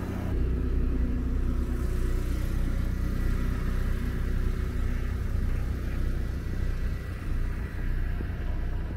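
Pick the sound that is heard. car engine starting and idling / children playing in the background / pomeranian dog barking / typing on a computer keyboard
car engine starting and idling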